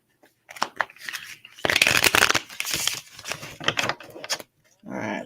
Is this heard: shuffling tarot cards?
yes